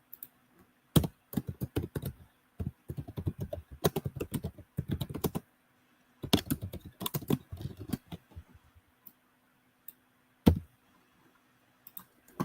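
Quick clattering keystrokes on a computer keyboard come in fast bursts of typing, close up, with short pauses and a single louder key tap near the end.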